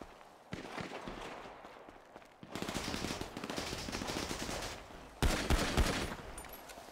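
Gunfire in a roleplay video game: a burst of automatic rifle fire, then a longer dense stretch of rapid shots, then a louder close volley, all without talk.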